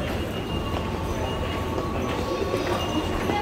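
A train rumbles at a station during a transfer, a dense, steady roar of wheels and machinery at close range with faint clatter throughout.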